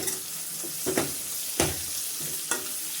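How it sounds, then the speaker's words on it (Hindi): Coriander, garam masala and Kashmiri chili powder roast in a pan for a chana dal and lauki dish, with a continuous sizzle and several sharp stirring scrapes up close. "बहुत अच्छे से मसाले भुन गए हैं, 1 से 2 मिनट ही लगे हैं।"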